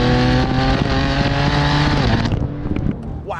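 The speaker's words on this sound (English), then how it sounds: "you get these whooshes and these beautiful blow-off valve noises that you just can't" A loud, close turbocharged engine in a 550 hp tuned BMW M4 roars steadily with a rising turbo whoosh, then lets off into a sharp blow-off valve hiss as the revs drop.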